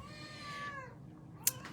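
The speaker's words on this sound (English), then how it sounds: "And apparently the cat thinks it wants to join the video." A house cat gives a single drawn-out meow close by in a quiet room, followed by a brief sharp tap.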